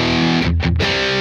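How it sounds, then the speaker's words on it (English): A Fender Mustang GT guitar amp set to a fuzzed-out preset gives a thick, saturated distorted guitar tone, loud and sustained, with a brief dip in the middle of the phrase. "Kind of fuzzed out on that one."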